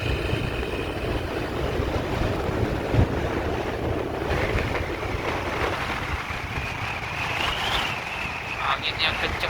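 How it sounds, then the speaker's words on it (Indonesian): Strong coastal wind at Mandeh Island, Indonesia, roars and buffets steadily across the microphone, with a constant rumbling rush and faint background sounds beneath it. "Angin yang kencang sekali ini."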